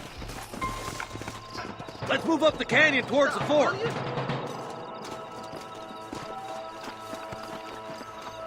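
Horse hooves clopping on ground in the Western video game Red Dead Redemption, a rhythmic run of hoofbeats under someone talking, with a whinnying voice in the middle and the clatter easing off afterward.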